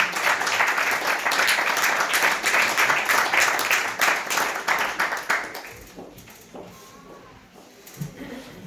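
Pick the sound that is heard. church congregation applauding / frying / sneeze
church congregation applauding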